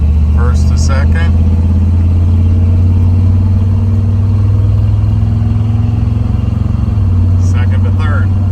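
A 1978 Chevrolet K10 truck engine drones loudly inside the cab as the truck drives and shifts from second to third gear. Someone talks over the steady rumble.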